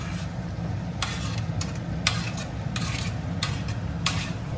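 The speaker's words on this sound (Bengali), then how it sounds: "এই সময় এই যে হালকা ভাজা যে সবজিগুলো ছিল সেগুলো সব দিয়ে দিচ্ছি আমি" Lightly fried vegetables are stirred into spiced chicken in a sizzling pan, with a steady frying hiss and repeated scraping strokes of a spoon against the pan, close and continuous.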